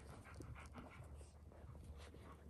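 Newborn puppies nursing from their mother give soft whimpers, yips and panting. The sounds are faint and close, repeating irregularly over a low background murmur.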